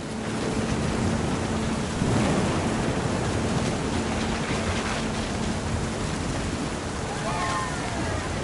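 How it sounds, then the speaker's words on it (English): Thunder rumbles through a stormy scene in What Remains of Edith Finch, a low, sustained roll with a stronger crack near the two-second mark over steady rain-like noise, and a faint voice underneath. "The thunder sounded much too close and full of angry power"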